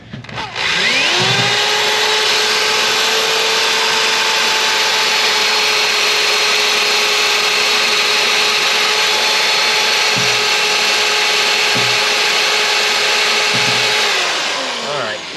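A power drill runs nonstop with drill bits biting into material while fitting auxiliary lights on a Range Rover Classic overland rig, a loud steady whine sustained for about thirteen seconds, with a few brief knocks underneath.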